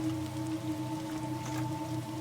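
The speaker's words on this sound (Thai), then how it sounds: "ฝนตกฝนตก" Steady rain falls in the Roblox horror game Terminal Tape, a continuous even patter under a low droning hum, with no voices.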